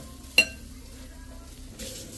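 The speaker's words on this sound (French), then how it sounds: "Je mélange bien le tout." Tuna and eggplant mixture stirred in a pan, a quiet low sizzle with one sharp utensil clink against the pan early on and a soft scraping swell near the end.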